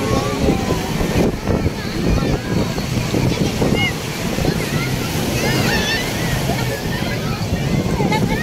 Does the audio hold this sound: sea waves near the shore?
yes